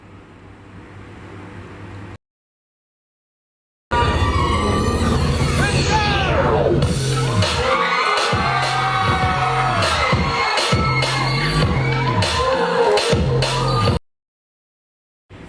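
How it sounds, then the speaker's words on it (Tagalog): At the It's You Time show, during a dance performance, a crowd screams and cheers loudly amid booming stage sound. Short stretches of silence come before and after the roar. "Napakalakas ang sigawan at tuwang-tuwa ang mga netizens sa loob ng It's You Time show."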